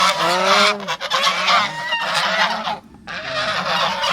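A flock of farm geese, adults with their four young, honk loudly and continuously at close range in harsh overlapping calls, with only brief pauses between bursts.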